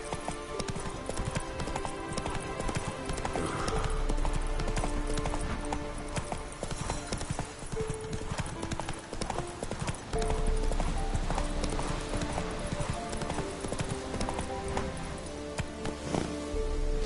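Rapid clip-clop of Geralt's horse Roach galloping in The Witcher 3 on PS5, hoofbeats close and continuous under game music and ambience.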